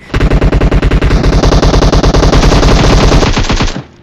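Automatic gunfire in the mobile battle-royale game PUBG Mobile, a rapid, evenly spaced burst of loud, close shots lasting several seconds before cutting off abruptly.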